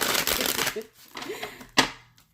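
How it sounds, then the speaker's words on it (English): Tarot cards being shuffled by hand in two or three quick riffling bursts separated by short pauses, close and fairly soft, with brief sharp flutters of the deck. "I will go ahead and shuffle them again"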